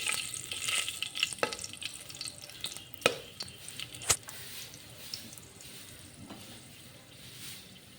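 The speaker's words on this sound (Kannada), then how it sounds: "ಒಂದು ಕುಕ್ಕರಿಗೆ ಸ್ವಲ್ಪ ತುಪ್ಪ, ಸ್ವಲ್ಪ ಎಣ್ಣೆ ಹಾಕಿ ಬಿಸಿ ಮಾಡಿ ಅದಕ್ಕೆ 1 ಪಲಾವ್ ಎಲೆ, 3 ಲವಂಗ, 2 ಏಲಕ್ಕಿ, 1 ಚಕ್ಕೆ ಹಾಕಿ ಫ್ರೈ ಮಾಡಿ" Bay leaf, cloves, cardamom and cinnamon fry in hot ghee and oil in a pressure cooker, giving a steady close sizzle broken by sharp pops and a few scraping knocks that ease off toward the end.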